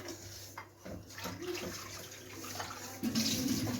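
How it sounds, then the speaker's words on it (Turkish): Milk poured in a home kitchen, a continuous liquid splash and trickle that grows louder near the end, with faint clinks of dishes. "Sütü döktüm."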